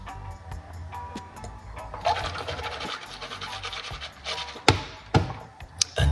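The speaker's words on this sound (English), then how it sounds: "put a little bit of water and rinse out your mouth." A person rinses their mouth with water, with soft swishing and gurgling, small clicks and a few sharper spits or splashes, close and fairly quiet.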